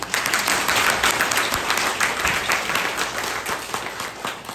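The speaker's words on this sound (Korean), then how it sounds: "다시 한번 박수 쳐주십시오" Audience at a Lions Club inauguration ceremony giving a round of applause, steady, close, continuous clapping filling the room from start to finish.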